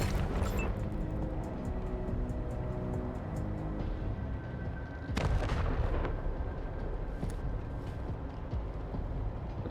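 Gunfire and booming weapon blasts in the video game Wasteland 3, heavy low rumbles with a few sharp cracks over a dense battle background and no talking.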